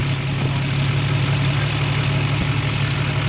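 A Suzuki Samurai engine idles with a low, steady rumble and constant throb, close and loud with no talk over it.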